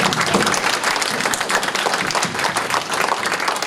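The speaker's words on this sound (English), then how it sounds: "please, a final round of applause to our panelists." Sustained audience applause for panelists at the close of a conference panel discussion, dense steady clapping throughout with no speech over it.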